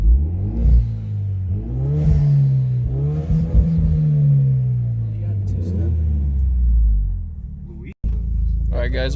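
A Hyundai Genesis engine fitted with a K&N air intake revs loudly nearby in a few rising and falling sweeps with a deep rumble, while a person speaks briefly over it.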